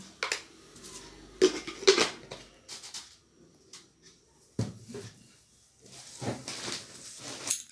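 Mango ginger being stirred with lemon juice and salt in a bowl: irregular clinks, taps and scraping of a spoon against the dish, with short quiet gaps between bursts.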